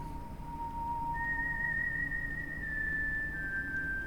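A character whistles a melody in the video game Trails through Daybreak, clear sustained pure tones that step from one pitch to a higher one, alone over a low game ambience with no talking.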